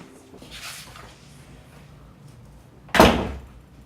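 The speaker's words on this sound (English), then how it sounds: "Why'd you close the door?" A door closes with one sharp, loud thump near the end, after a quiet stretch of faint room noise and light rustling.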